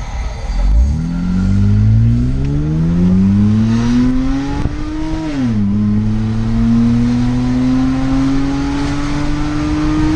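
A Hyundai Veracruz V6 engine revs up loudly through a stainless steel exhaust and diffuser, pitch climbing steadily, drops briefly at a gear change, then pulls up again with a deep exhaust rumble.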